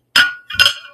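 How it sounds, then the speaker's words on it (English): Heavy fused glass pieces clinking together: two sharp, bright ringing knocks about half a second apart, close and loud, each leaving a short shimmering ring in an otherwise quiet room. "You're going to hear some glass."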